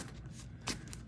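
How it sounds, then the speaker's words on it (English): A Yu-Gi-Oh! card deck is shuffled close by in a brief run of rapid, crisp riffling flicks lasting about a second, with no talking. "So after some deliberate shuffling,"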